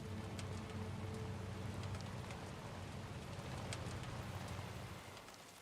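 Steady video game timefall rain in Death Stranding 2, falling as a dense, continuous hiss with a low rumbling undertone that eases off slightly near the end.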